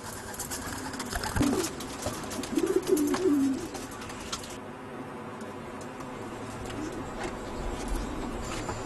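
Pigeons cooing inside a pigeon coop, several soft throaty coos in short runs over a busy background of rustling and ticking, with no talk.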